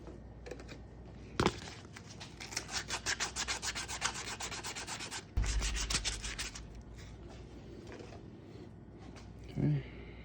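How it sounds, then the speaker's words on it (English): A 90% silver 2010 quarter coin ring is sanded with 220-grit sandpaper, giving close, rhythmic scratchy rubbing strokes that pause briefly midway and resume, with a faint voice in the background. "we're going to sand it down with some 220 sandpaper"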